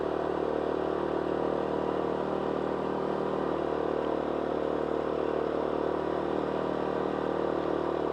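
A Power Smart 2500 watt inverter generator runs at high idle, giving a steady, loud engine drone with a constant buzzing whir that holds unchanged throughout, with no talking.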